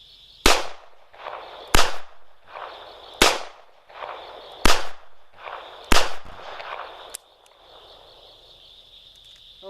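Five sharp, loud gunshots from a Smith & Wesson 642 snub-nose revolver crack at steady intervals of just over a second, each with a short ringing tail, followed by quiet.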